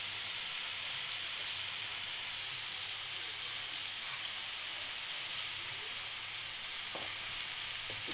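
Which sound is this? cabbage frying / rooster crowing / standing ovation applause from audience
cabbage frying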